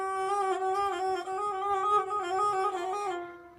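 Rabab, a bowed string instrument, played with two fingers pressed too close together on the string, giving one sustained, slightly wavering bowed tone with a rich harmonic stack, close and steady for a few seconds, no talk.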